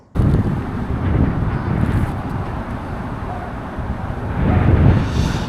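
Strong gusts buffet the microphone outdoors on a windy day while flying a kite in New York City, a loud continuous low roar that swells and surges again near the end, with no voices.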